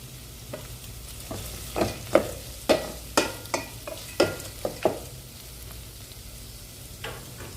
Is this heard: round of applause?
no